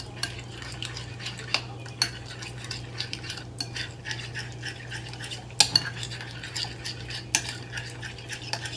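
A utensil stirs a lemon mayo mixture made with lemon zest in a bowl, giving soft scraping swirls and occasional sharp clinks against the side over a steady low hum.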